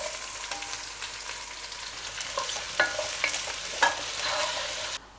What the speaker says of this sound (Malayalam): അതിനുശേഷം ചോപ്പ് ചെയ്ത് വെച്ചിട്ടുള്ള നമ്മുടെ ഓനിയൻ ഇതിലേക്ക് ഇട്ട് കൊടുക്കാം